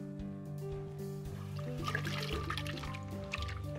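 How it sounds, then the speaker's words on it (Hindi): Paneer pasanda gravy strained through a sieve: wet dripping and trickling of thick curry, close by, over a steady hum in the background. "अब ग्रेवी को छान लीजिए ताकि एक बढ़िया सिल्कन करी बने।"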